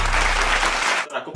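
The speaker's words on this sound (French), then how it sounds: "Applaudissez." A short, dense burst of applause, clapping loudly close by for about a second before cutting off abruptly.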